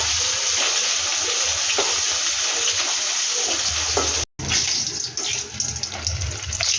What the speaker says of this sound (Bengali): ডালের বড়ি ভেজে নিচ্ছি মাছের জন্য